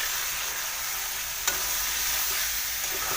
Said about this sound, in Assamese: ভালদৰে লৰাই দিম।